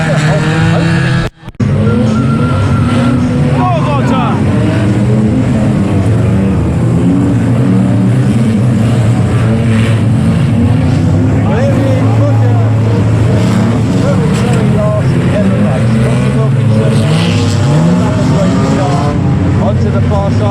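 Race cars circle a racing circuit, their engines droning loudly with rising and falling pitch as they pass, while a commentator talks over the steady roar.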